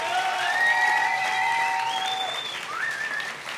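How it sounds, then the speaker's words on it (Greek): An audience at a live concert at a Piraeus music club applauds the band in a dense, continuous burst of clapping, with a few whistles riding over it. "θα ήθελα λίγο ένα χειροκρότημα για τους μουσικάρες εδώ πέρα"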